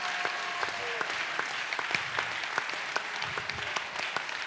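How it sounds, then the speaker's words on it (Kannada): A church congregation claps during a sermon, producing a moderately quiet, scattered stream of hand claps with sharper individual claps standing out against a soft crowd wash. "ನಾನು ಹೇಳಿದ್ನ ಚಪ್ಪಾಳೆ ತಟ್ಟಕ್ಕೆ."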